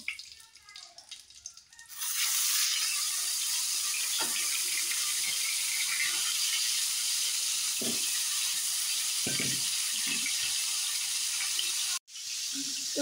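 Fish sizzles and spits in hot oil in a pan, a steady close frying hiss that starts after a quieter opening and runs unbroken, with a few faint clinks and a brief cut near the end.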